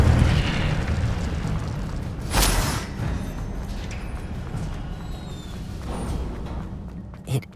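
Incendio fire spell from Hogwarts Legacy bursts out in a loud whooshing flare over a steady rumbling game backdrop, with a brief sharp pop near the end and no talking.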